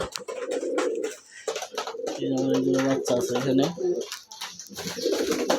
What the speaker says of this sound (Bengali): দেখেন আমার কবুতরগুলা